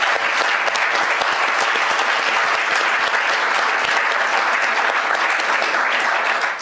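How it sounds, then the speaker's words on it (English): Audience applause for a discussion panel at an impact investing event, steady dense clapping throughout, loud and close with no speech over it. "So maybe another round of applause for our panel."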